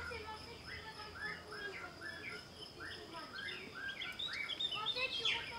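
Wild birds chirp in a French home garden in a run of quick, repeated high calls, moderately near over an outdoor hiss, with a person talking at times.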